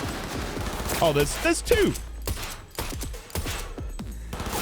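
Gunfire rattles in the video game Cyberpunk 2077, quick shots and bursts under a player's excited talk, with the shots coming in clusters across a few seconds.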